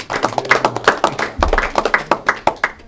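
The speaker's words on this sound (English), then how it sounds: "we should clap for that" Scattered hands clap in an uneven burst of applause from a small group, sharp and close, lasting a few seconds.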